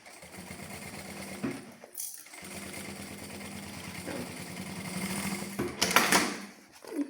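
Sewing machine stitching fabric: a steady, rhythmic mechanical whir, close and moderately loud, with a brief pause near the two-second mark before it runs on.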